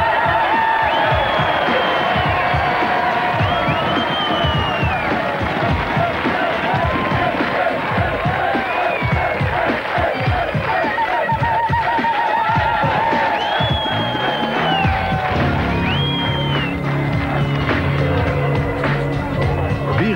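A crowd cheers and whoops for the winner of a strongman competition, loud and continuous, with a voice talking over it and the noise thinning toward the end.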